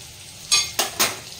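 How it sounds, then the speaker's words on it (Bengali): Whole cumin seeds and bay leaves hit hot oil for a home-cooked curry, giving three quick sharp bursts of sizzling and spattering close by, each flaring loud and then fading, with no one speaking. "এবার ওই তেলের মধ্যে আমি ফোড়নে দিয়ে দিলাম গোটা জিরে আর তেজপাতা।"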